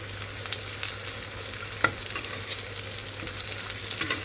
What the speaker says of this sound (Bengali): তেল দিয়ে দিছি আমি কালো জিরাটা দিয়ে দিলাম ভাইজা নেই এটারে সুন্দর করে